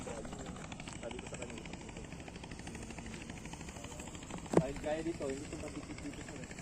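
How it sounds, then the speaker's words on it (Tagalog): DJI T40 agricultural drone used for broadcasting rice seed, a steady buzzing propeller whine throughout, with a sharp knock and brief voice midway over the hum. "malaki yung drone na to ito po yung ginagamit nila para pangsabog"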